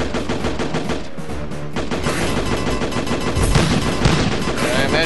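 Rapid gunfire and explosions from the Heavy Weapon Deluxe video game, a Moon Patrol-style shooter, form a loud, dense and continuous barrage with no breaks.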